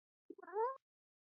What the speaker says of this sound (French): J'ai entendu un chat ou je suis fou?